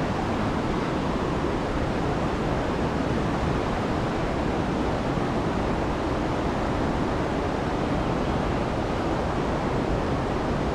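Khandadhar waterfall in a forested hill setting, its falling water making a dense, unbroken roar that fills the whole span at constant loudness, with no voices.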